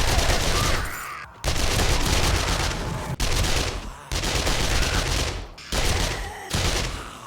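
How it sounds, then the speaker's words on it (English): SMG-5 submachine gun in the 7 Days To Die video game firing long rapid bursts, loud dense rattling volleys broken by brief pauses between four or five strings of fire. "So let's open this up and give our SMG a good old test here."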